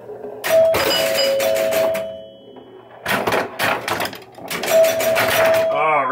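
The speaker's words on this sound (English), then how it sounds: "Hear them Gottlieb chimes on a Williams box." Gottlieb-style chimes ring out on a 1974 Williams Skylab pinball machine, struck in quick clustered bursts with sustained bell tones, close and loud, alongside flipper and playfield clatter and some talking.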